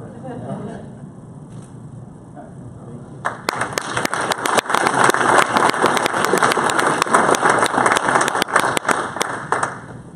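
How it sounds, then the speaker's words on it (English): A quiet murmur gives way to loud, sustained applause from a large crowd at an annual meeting and awards ceremony, dense clapping continuing steadily to the end. "a round of applause to all the Regents Award recipients"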